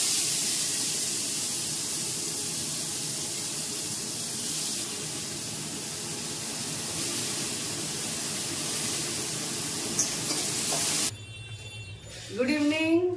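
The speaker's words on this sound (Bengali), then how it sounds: "তো এটা ফোড়নের হয়ে গেলে তারপর উচ্ছেগুলো একটু ভেজে নেব।" Bitter gourd frying in a hot pan after the spice tempering, giving a loud, steady sizzling hiss that runs unbroken for about eleven seconds, then cuts off as a voice speaks briefly.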